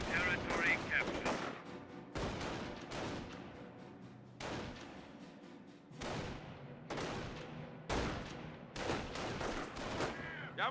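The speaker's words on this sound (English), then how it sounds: "Incoming gunfire." Bursts of gunfire in Company of Heroes 1, sharp repeated shots and rattling volleys with booming impacts, under faint voices and background rumble.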